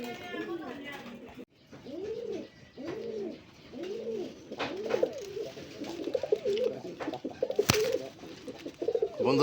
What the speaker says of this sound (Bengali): এটা হচ্ছে আমাদের ময়না ঝাঁক কবুতর